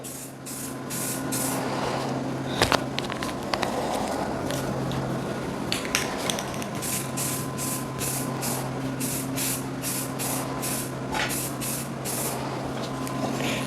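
Aerosol spray paint applied in light coats to motorcycle parts being blacked out: repeated short hissing bursts, some near and loud, separated by brief pauses, over a low steady background hum.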